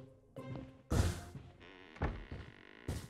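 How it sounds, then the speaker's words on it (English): Several dull wooden thunks and knocks sound close by, one heavier bump near the start and two more spaced out later, like a door being pushed shut, with brief faint movement noises between and no talking. "You shut the door on me?"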